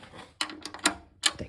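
A ratchet wrench with a socket set ratchets in a few sharp, close bursts of clicks during cooling system leak repair on a 2009-era Porsche Boxster 987.2 with a 2.9-liter engine, separated by brief pauses.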